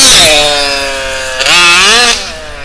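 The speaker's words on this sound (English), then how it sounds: "Definitely more power without the muffler in there." An HPI Baja RC car with an RCMAX 90GT nitro engine and no muffler screams loudly and close up. Its high, raspy engine note rises, dips, then revs up again before easing off.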